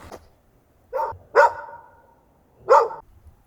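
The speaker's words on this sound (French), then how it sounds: "il y a le chien qui aboie" A dog barks in a residential neighbourhood, three separate barks spaced apart with one slightly drawn out, moderately loud at mid distance, with quiet background between them.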